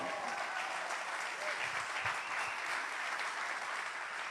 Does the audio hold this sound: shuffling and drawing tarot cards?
no